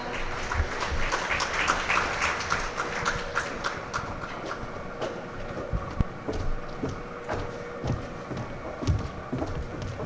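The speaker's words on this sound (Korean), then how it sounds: "다시 한번 뜨거운 박수 부탁드립니다." Audience applause fills a conference hall at a personal data protection and GDPR seminar, a steady wash of many hands clapping that stays fairly even throughout, with no talk over it.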